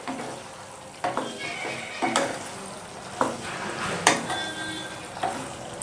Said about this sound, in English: I will add this, all of this. Mix it well.